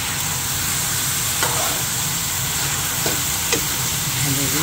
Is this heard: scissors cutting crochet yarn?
no